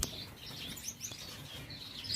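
Finches chirping in breeding cages, a few short high tweets scattered over a faint room background with no talking.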